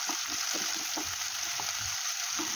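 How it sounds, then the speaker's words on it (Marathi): Thinly sliced onion frying until light brown for aloo matar pulao, producing a constant dense sizzle with soft repeated stirring thuds beneath it, fairly faint and close, with nobody speaking. "यानंतर एक बारीक उभा चिरलेला कांदा यामध्ये टाकून घेऊया आणि तोही हलकासा ब्राऊन कलरचा होईपर्यंत फ्राय करून घेऊया"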